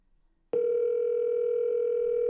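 An Amazon Echo smart speaker places a phone call, and after a brief quiet start a steady electronic dialing tone holds unbroken and loud to the end, alone without voices.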